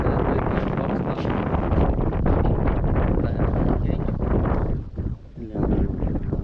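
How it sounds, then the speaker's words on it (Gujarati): Steady wind blowing and buffeting the microphone on a farm, with rustling leaves, a brief lull near the end before gusting picks up again. "પાંદડા હલે કેટલો પવન આવે"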